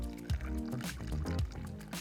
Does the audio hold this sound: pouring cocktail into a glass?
yes